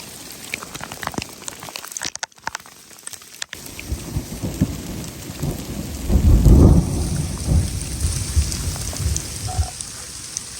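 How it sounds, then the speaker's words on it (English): Steady rain hisses while thunder rumbles low and heavy, swelling into a loud nearby roll midway before fading back under the downpour. "There was just a crack of lightning that was really fucking close."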